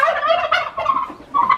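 Turkeys on a small farm gobble loudly and nearby in rapid, warbling bursts, three quick volleys with short gaps between them and no talking.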